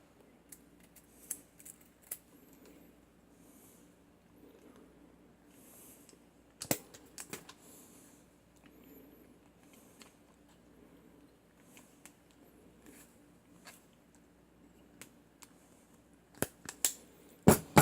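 A Kseibi self-adjusting wire stripper snips through the sheathing of a five-conductor cable, giving scattered sharp clicks and snaps that come in small clusters over a quiet background, loudest near the end.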